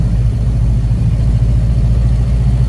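A 1930 Model A truck engine drones low and loud while driving, a steady, rumbling cabin hum with no voices.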